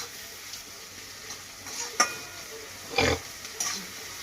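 Salted onions frying in a pan for a mashed potato dish, a soft steady sizzle with a few sharp utensil scrapes and clinks as they are stirred.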